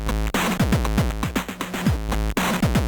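Crunchy, bit-crushed drums with gritty, lo-fi distortion over a steady beat, kicks and snares smeared with harsh digital fuzz, loud and continuous.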